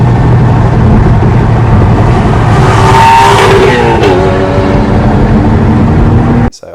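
Porsche Cayman 981 with switchable exhaust passing by, a loud, sustained engine roar that builds, peaks as the car passes close, then drops in pitch and fades before cutting off abruptly.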